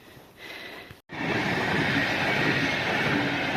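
A VR long-distance train passes in winter, a sustained loud rumble and rushing roar of rail cars that swells suddenly after a brief quieter moment and stays strong, heard close by without speech.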